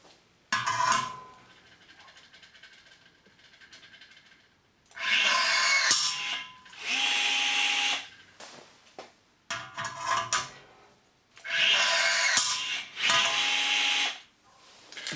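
A Milwaukee M12 cordless rivet gun sets rivets, its mandrels ejected into the rear catcher: several quick bursts of close mechanical pulling and snapping, each lasting about a second or two, separated by quieter handling noises.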